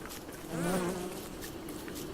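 A video game bee swarm's buzzing drone swells briefly close by, then settles into a faint, steady hum over low background noise.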